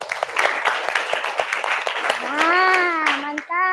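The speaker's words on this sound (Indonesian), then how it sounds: "Tepuk tangan dulu." Schoolchildren in an Indonesian classroom clap their hands in quick, uneven bursts, followed by a teacher's voice that rises into sustained sing-song tones near the end.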